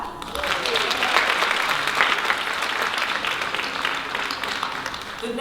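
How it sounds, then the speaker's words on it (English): Audience at a business showcase event giving steady, dense applause for a dessert company owner, a continuous wash of clapping at even strength throughout. "Please give her a clap."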